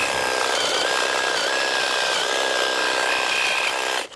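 A Makita DUH506 18 volt cordless hedge trimmer runs close by at a steady, loud buzzing drone for about four seconds, then cuts off abruptly at the end.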